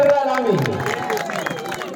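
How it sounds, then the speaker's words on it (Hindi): An audience at a bhajan competition applauds the announced winner, a dense wash of clapping and crowd noise that carries on steadily for a couple of seconds. "एक बार जोरदार तालियां बजाइए उसके लिए"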